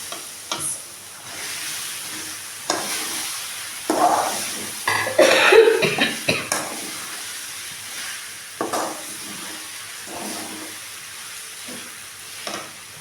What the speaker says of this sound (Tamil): நல்லா இன்னும் கொஞ்சம் நேரம் கிண்டி விட்டு எண்ணெய் வந்து